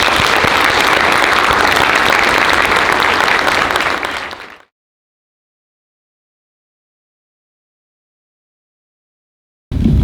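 An audience at a Niagara University film screening gives a loud, dense round of applause for about four seconds, then it fades into silence before a brief burst of clapping returns at the very end.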